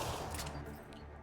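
Gunfire in the game Mass Effect Andromeda: a short dense burst of rapid shots, loud and close, over a rumbling low background.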